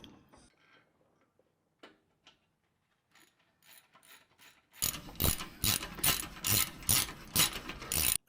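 Jeep Rubicon stabilizer bar bolted up with a ratchet: a few faint clicks and knocks at first, then a loud, steady run of rapid ratcheting clicks in quick strokes, close up, with no talking.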